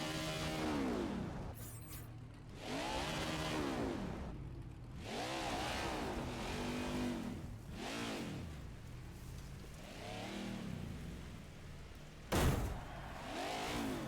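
NASCAR stock car in NASCAR 21: Ignition revving hard in repeated rising and falling bursts as it accelerates out of a gravel trap, loud and close, ending with a sharp thud.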